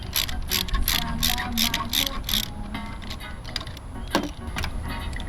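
A 3/8-inch ratchet clicks in rapid bursts while unscrewing the carburetor bolts on a lawnmower, the pawl's quick ratcheting strokes repeating close by, then slowing into scattered clicks and metal handling.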